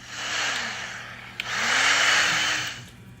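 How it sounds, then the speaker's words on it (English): A 3D-printed Hurricane blower driven by a mattress air pump, two close whooshing blasts of rushing air, each rising and falling over about a second, with a soft click between them. "3D Hurricane Blower just sounds like that."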